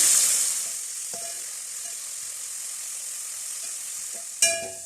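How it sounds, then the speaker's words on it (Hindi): Sliced onion fries in hot oil toward light golden brown, a dense, even sizzle throughout with a few faint utensil touches and one sharp clack near the end. "इस प्याज को इसमें ब्राउन होने तक, लाइट गोल्डन होने तक फ्राई कर लेते हैं।"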